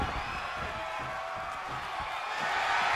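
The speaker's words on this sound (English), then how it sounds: "The sound of this crowd is deafening, and he's asking for more." A wrestling arena crowd in the WWE 2K22 video game roars in a dense, steady wash of cheering that swells slightly toward the end, with a commentator's voice faintly under it.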